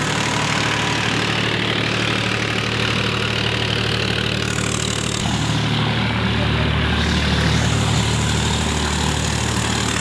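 A rice mill driven by a Powertrac Euro 50 tractor at about 1700 RPM drones steadily, a loud continuous engine hum with rattling machinery, close by and unbroken for the whole stretch, with a slight shift in tone midway.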